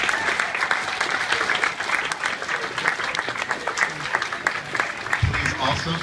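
An audience at a live Danganronpa murder mystery trial event claps in sustained, dense applause that fills the room, with a voice speaking over it near the end.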